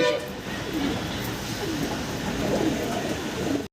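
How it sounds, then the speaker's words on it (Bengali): Fancy pigeons, including Budapest birds, coo in repeated low, rolling phrases close by, with faint voices in the background. "তো নিয়াত ভাই এটা কি কবুতর ভাই"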